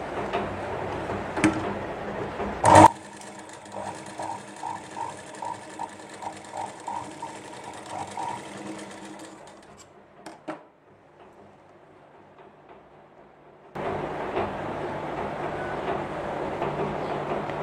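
A sewing machine stitches a well stitch in a basic tailoring lesson, a steady fast mechanical whirring clatter running for several seconds before stopping, then resuming, with a sharp clack near the start.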